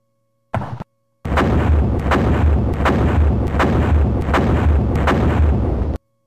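Rapid, continuous artillery and gunfire in the World War I game The Great War 1914-1918, a dense rolling barrage of repeated blasts after a brief opening burst, loud and steady with no voices.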